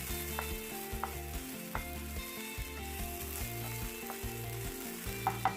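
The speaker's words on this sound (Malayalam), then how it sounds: "അരപ്പും കൂടി ഇട്ട് നന്നായിട്ടൊന്ന് മിക്സ് ചെയ്തെടുക്കാം" Coconut paste with dried red chillies sautéing for an ivy gourd thoran, steady close sizzle of frying with repeated rhythmic scrapes and stirring knocks throughout, no voices.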